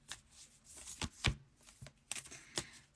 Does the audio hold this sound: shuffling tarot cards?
yes